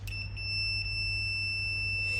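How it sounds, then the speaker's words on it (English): A multimeter in continuity buzzer mode, used to test a heating cylinder thermostat, gives a steady, unbroken high-pitched electronic tone that holds for the whole moment over a low background hum. "put the multimeter into the buzzer mode"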